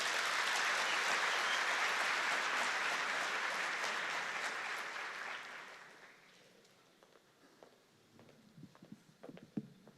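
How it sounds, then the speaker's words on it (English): Warm applause from an audience at a university welcome ceremony greeting the vice-chancellor, full and loud for several seconds, then thinning to scattered claps and footsteps. "Please, a warm round of applause"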